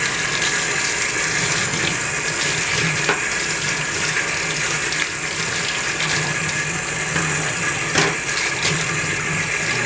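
A faucet pours water steadily into a sink as a comb is rinsed under it; the close, continuous rush carries on throughout, with a few faint clicks and knocks and no talking.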